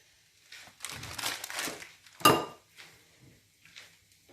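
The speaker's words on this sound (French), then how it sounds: "Je le mets dans le feu, dans ma casserole." Clattering of a pot and utensils as ingredients for pondu (saka saka, cassava leaf stew) go into a casserole pan over the fire, a string of close scrapes and clinks with one sharp metallic knock midway.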